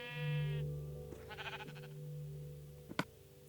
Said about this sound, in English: and there we go, we got our 3 sheep